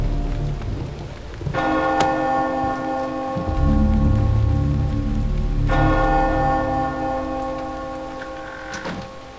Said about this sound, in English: It's the custodian's task to ring the bell.